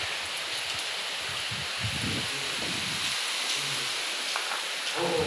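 Steady rain falls near a house as a dense, even hiss that runs through the whole stretch, with some low rustling and thumps underneath.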